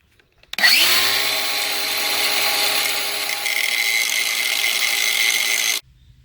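A power grinder works the front and rear stops of a lift kit on a square-body Suburban, a loud steady whine that starts abruptly, runs continuously for about five seconds with a slight pitch shift midway, then cuts off.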